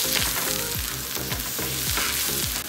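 Chopped ginger and garlic fry in a little oil over high heat for Chinese-style fried rice, a loud close sizzle with rhythmic scraping strokes repeating about every half second.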